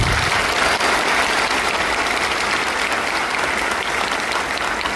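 An audience breaks into sustained applause for a 79th birthday at a public gathering in Raichur, loud continuous clapping from many hands with no break.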